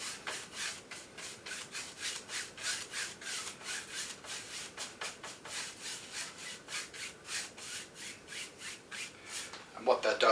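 A brush spreads oil painting medium across a whole canvas in rhythmic back-and-forth strokes, a close, steady scratchy swishing with no talking.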